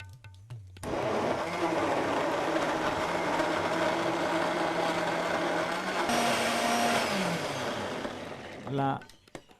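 A kitchen blender grinds a chutney mix with a little water added, a loud steady whirring motor running for about eight seconds with a brief pitch shift partway through before it winds down.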